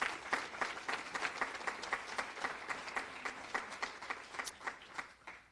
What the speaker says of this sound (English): Let's give them all a round of applause for the public service they do.